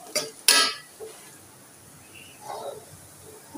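Lentils being fried and stirred with onions in a pan: two sharp metal clanks of a spoon against the pan up front, followed by quieter scraping and soft stirring sounds.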